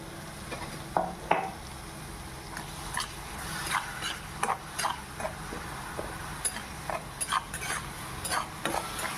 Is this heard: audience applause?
no